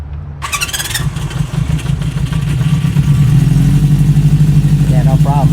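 A 1973 Honda CB350 Four motorcycle engine cranks with a whirring starter and catches, then settles into a steady, loud idle with a rapid low pulse.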